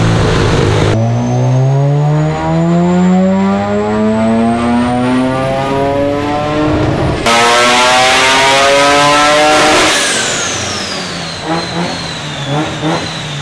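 A loud, built Mazda RX-7 engine on a dyno revs steadily upward in long sustained pulls under boost, its pitch climbing, then drops and revs again with a rising whine.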